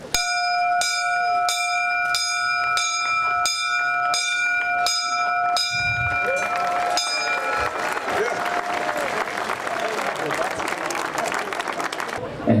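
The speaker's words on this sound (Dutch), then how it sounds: "mag ik aan zijn touwtje trekken om de bel te laten gaan." A bell rung by pulling its rope sounds in a steady series of about nine evenly spaced strokes at a harbour opening ceremony in Nijkerk, then a crowd breaks into loud applause that continues to the end.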